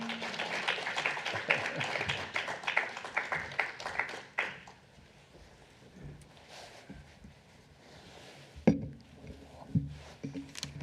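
An audience in a church applauds to welcome a missionary speaker. Dense, lively clapping lasts several seconds, then fades into a quiet room with a few scattered knocks and rustles.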